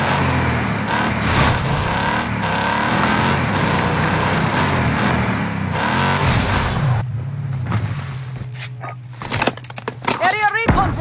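Vehicle engine in Call of Duty: Warzone, a steady loud drone with shifting pitch that runs for about seven seconds, then drops to a lower idle hum under scattered game sounds and radio voice callouts.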